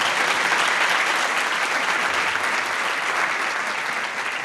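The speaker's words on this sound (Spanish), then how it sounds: "Un aplauso para la invitada" Sustained applause from a television talk show's studio audience greets a female guest. Many hands clap in a dense, even roar that stays loud throughout and has no talking over it.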